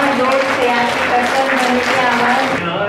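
Applause from an audience at a flag hoisting and candle lighting event for Shiv Jayanti, a dense steady wash of clapping filling the whole stretch with a loud crowd, then thinning slightly at the very end.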